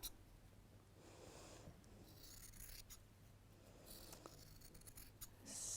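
Scissors snip quietly through fabric at a sewing table, soft intermittent crunching cuts with faint rustling between strokes, close and low in level.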